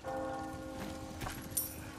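A church bell tolls in Resident Evil 4 Remake, its sustained ringing tones hanging over a faint patter of rain and ambient game noise, with a brief sharper sound near the end and no speech.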